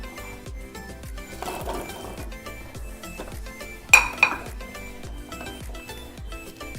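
A metal pan holding fried gulab jamun in syrup clinks and clatters as it is handled on the stove, with soft scrapes and two sharper knocks midway over a quiet, steady background.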